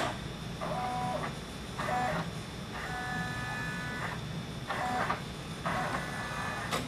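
An embroidery machine traces a design with a Hooptech clamp, giving off repeated whirring motor bursts with tonal whines at roughly one-second intervals over steady background noise.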